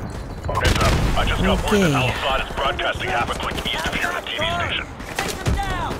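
Dense gunfire and grenade blasts from Call of Duty Modern Warfare Remastered, a continuous loud barrage of shots and explosions, with someone talking over the battle.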